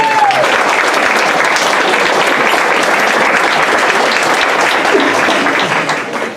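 A big round of applause from diners at a senior sports banquet, sustained and even for several seconds before tapering slightly at the end.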